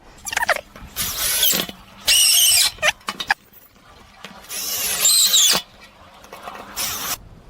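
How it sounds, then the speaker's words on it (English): Two pieces of wood are driven together with screws for a DIY carp-fishing rig mold. Several loud, close whirring bursts of a powered screwdriver come with brief squeals and pauses between them. "now we need to carefully screw these 2 pieces of wood together using a screwdriver"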